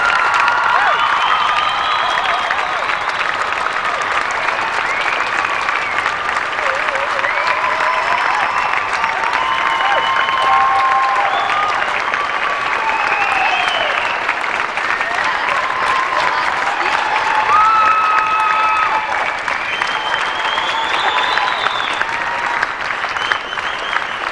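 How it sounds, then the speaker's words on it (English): Sustained applause from a large audience at a state FFA leadership conference, a dense, loud, unbroken wash of clapping with scattered cheers and shouts lasting the whole stretch. "this team needs a standing ovation from this audience for the opportunities they have provided FFA members throughout Iowa. Let's give them an applause."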